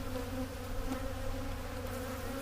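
Honey bees buzz steadily around a split hive being checked for queen cells, a dense continuous drone that holds close and even throughout, with no voices.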